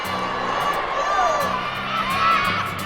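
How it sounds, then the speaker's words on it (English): Team USA softball players cheer together in a group, raising shouts and whoops that swell and ebb over steady crowd noise, with voices layered close by throughout. "A new cheer has developed on Team USA."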